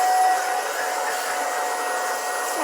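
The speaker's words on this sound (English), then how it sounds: "Uh-oh, got a vacuum again. More dust." A vacuum cleaner sucks up dust during a pill box conversion, a steady high-pitched whine with an airy hiss, running loud and alone throughout.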